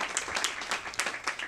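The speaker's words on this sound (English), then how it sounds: "give him a great big hand of applause." Audience applause during a school commencement assembly, a short burst of dense clapping from a crowd, moderately loud and steady throughout.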